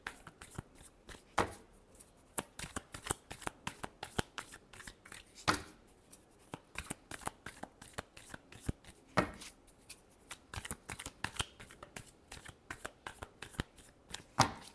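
Tarot cards riffled and shuffled by hand, a rapid run of sharp, irregular flicks and slaps repeating closely throughout, quiet and without talk.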